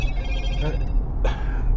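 A short burst of an electronic phone ring over a low background hum, brief and close, cut off quickly.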